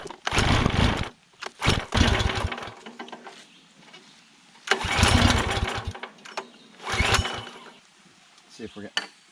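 Small engine on a gravel-moving machine, a hard starter, running in loud bursts that stop and restart, with quieter gaps between, heard up close.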